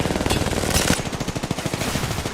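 Rapid bursts of automatic gunfire in a shooter video game, loud and dense with repeated sharp shots over about two seconds, no voices.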